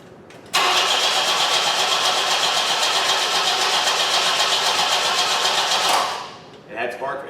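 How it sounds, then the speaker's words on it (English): A 1973 Opel Ascona, abandoned for years, cranks steadily over on its starter for about five seconds, loud and close with a fast even churn, then stops; voices talk briefly afterward. "Yeah, it's cranking plenty quick."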